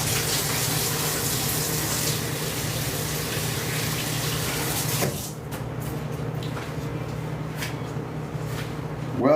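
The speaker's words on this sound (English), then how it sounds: "Wash my hands." A kitchen tap runs hard while hands are washed beside a griddle in a diner-style home kitchen. The steady gush cuts out midway and is followed by quieter clinks and handling sounds.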